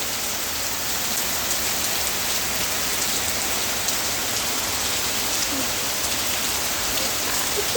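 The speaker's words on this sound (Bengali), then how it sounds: "অবস্থা এত পরিমাণে বৃষ্টি নেমেছে চারিপাশে পুরো অন্ধকার হয়ে গেছে" Heavy rain pours down steadily in a dark downpour, a loud, unbroken hiss of drops hitting surfaces close around, with no pauses.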